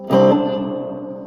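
A single electric guitar chord struck through a Fender Mustang Mini amp, ringing out with a light reverb tail that fades over about a second.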